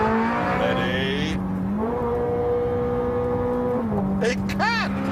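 A Ferrari F430 Scuderia on a track races hard, its engine screaming through rapid upshifts with sharp drops in pitch between gears, loud and close throughout, with a brief burst of voice near the end.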